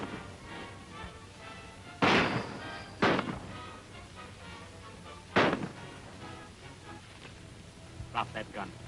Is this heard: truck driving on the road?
no